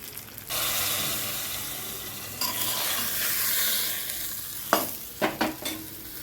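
Curry leaves go into hot oil for snake gourd kootu and catch with a loud, continuous sizzle, followed by a few sharp clinks and scrapes of stirring near the end.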